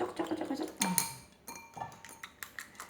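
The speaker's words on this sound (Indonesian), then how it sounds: "lalu kita kocok" Eggs being beaten in a bowl for an Indonesian omelette, a rapid run of light clinks and taps of utensil on dish, quiet and close, with brief pauses between bursts.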